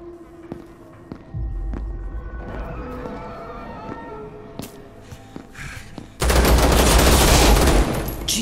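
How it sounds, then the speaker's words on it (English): Loud sustained burst of AK rifle fire in a virtual reality horror shooter game, a dense rattling volley lasting about two seconds near the end, following scattered thuds and faint background game sounds. "I'm gonna have to use the AK"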